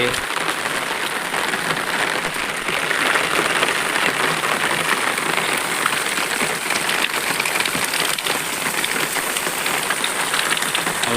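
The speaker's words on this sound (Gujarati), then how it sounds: "વરસાદ પૂરજોશમાં પડી રહ્યો છે જેથી પાણીના બંબે બંબા પડી રહ્યા છે" Heavy rain pours steadily, a loud, dense hiss of water drumming on surfaces that holds constant throughout without any pause.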